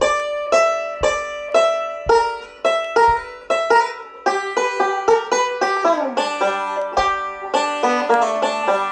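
Scruggs-style three-finger banjo picking a lick, a bright run of rapid plucked notes in steady rolling rhythm, close and clear, with no voices.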